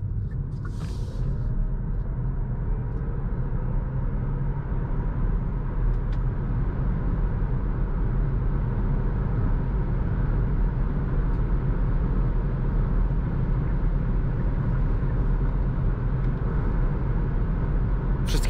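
A 2023 Kia Niro EV L electric car cruising on a motorway, a steady, muffled cabin rumble of road and tyre noise, even and continuous with no engine note.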